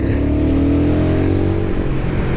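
A Royal Enfield Guerrilla 450 motorcycle accelerates hard to overtake on a mountain road, its engine a loud, close, continuous drone rising steadily in pitch, with heavy wind rush around it.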